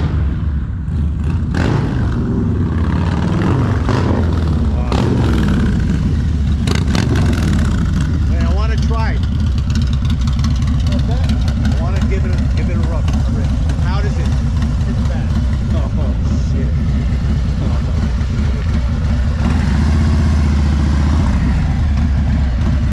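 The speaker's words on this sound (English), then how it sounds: "The bike sounds amazing and the response is amazing." A Stage 2 Harley-Davidson Low Rider ST fitted with a Sawicki Speed 2-1 exhaust runs loud and close, its deep continuous engine roar rising and falling with throttle while a person talks over it.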